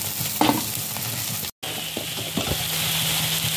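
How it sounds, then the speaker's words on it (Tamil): Chopped large onions frying in hot oil in a pan for egg Manchurian, with a steady loud sizzle and occasional stirring scrapes, close, with a brief dropout midway. "இப்போ பெரிய வெங்காயம் கட் பண்ணதை போட்டு நல்லா ஃப்ரை பண்ணிக்கோங்க."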